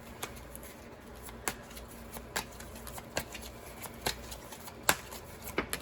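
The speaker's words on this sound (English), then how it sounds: "Today I feel like showing off my shuffling skills, so let's go for it." A deck of tarot-style cards is shuffled by hand, producing soft, regular riffling bursts roughly every second, quiet and close with light papery taps between them.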